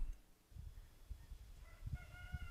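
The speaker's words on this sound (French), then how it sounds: "Vous avez entendu le chant du coq." A rooster crows at a distance outdoors, a short faint call rising over low rustling and bumping noises near a wildlife camera.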